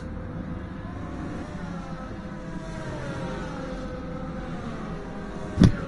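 Race cars in the F1 23 video game overtaking, their engines droning steadily and evenly throughout, with a short sharp thump near the very end.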